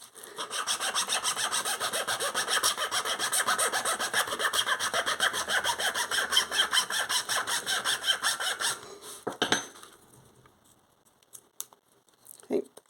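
A handsaw cuts through wood for lace bobbin stackers in fast, even back-and-forth strokes, close and loud for about nine seconds, then stops, leaving a few light knocks and a voice.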